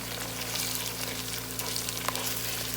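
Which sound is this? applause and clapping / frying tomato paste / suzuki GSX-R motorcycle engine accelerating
frying tomato paste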